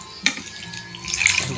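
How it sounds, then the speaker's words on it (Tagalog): A glass of water is poured into a cooking pot during a catch-and-cook meal, giving a brief splash followed by a rising, close gush of running water. "Maglagay tayo ng tubig mga idol. Ano mga idol, isang basong tubig mga idol, ilagay natin ba."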